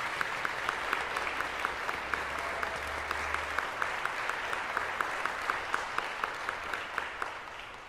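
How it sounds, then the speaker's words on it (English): A church congregation at a Lutheran Sunday service claps steadily in a round of applause, a dense even wash of hands lasting throughout, with occasional sharper claps standing out. "join with me in giving our youth a grateful round of applause"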